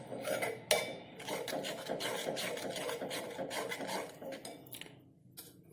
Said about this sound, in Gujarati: સારી રીતે મિક્સ કરીશું